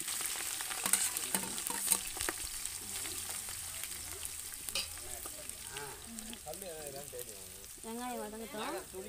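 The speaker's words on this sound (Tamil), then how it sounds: "வெங்காயம் வதங்கட்டும்" Onions fry and sizzle in hot oil as they are stirred for biryani in a home kitchen, a continuous crackling hiss with scraping stir strokes, while someone talks quietly over it.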